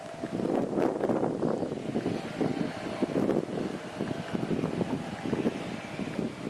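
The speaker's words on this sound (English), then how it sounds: "that day was very windy and very cold" Cold wind blows steadily during a horse riding session, buffeting the microphone with uneven low gusts throughout, and no one speaks.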